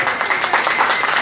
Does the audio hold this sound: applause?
yes